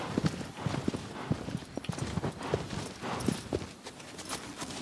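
Horse hooves clip-clopping steadily in Shadow of the Colossus, a continuous rhythmic walking pattern at moderate loudness over a steady ambient background, with no voices.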